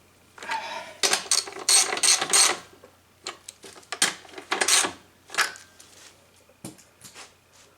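A ratchet tightens the bolts on a lawn mower's replacement recoil starter, giving close, loud bursts of rapid clicking in several separate runs with brief pauses between them.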